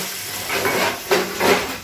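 Spiced soybean chunks being stirred and fried in a pan, giving a steady broadband sizzle with a few louder scraping stirs rising and falling through the short stretch, with no one talking.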